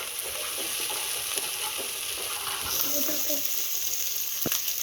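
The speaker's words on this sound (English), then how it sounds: "I'm going to add the shallots." Shallots hit hot oil in a pan for a brinjal (eggplant) gravy, a steady close sizzle and crackle running throughout with a few soft stirring knocks and no speech.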